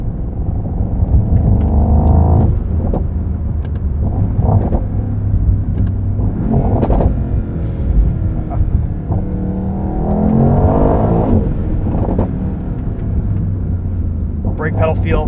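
A 2024 Mercedes-AMG GT63 Coupe in race mode with its exhaust valve open rumbles and rises through revs from inside the cabin, loud and continuous, with talk over it at times.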